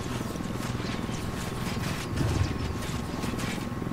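Helicopter rotor noise in Ghost Recon Wildlands, a steady broadband chop that runs through the whole stretch, with a brief swell near the middle as the aircraft passes closer.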